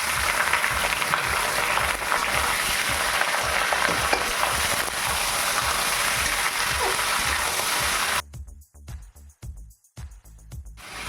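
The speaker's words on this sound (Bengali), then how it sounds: "এবার আমি তেল গরম হয়ে গেছে, মাংসগুলো দিয়ে দেবো।" Chicken pieces frying in hot oil with cloves for a Bengali chicken chaap give a steady, dense sizzle that fills the first eight seconds, then cuts off and leaves a few scattered crackles.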